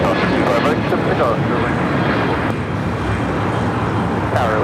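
Southwest airliner taking off from runway 25 right at LAX, a steady broadband engine roar holding loud and close throughout, with faint radio chatter mixed in.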